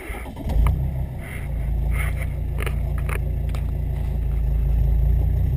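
Mercedes-Benz C30 CDI AMG diesel engine running steadily at idle, a close, continuous low rumble that swells briefly near the start and then holds an even drone throughout.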